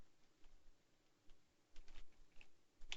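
Keys tapped on a computer keyboard while entering a game mode command, quiet clicks in small bursts with a denser flurry near the end.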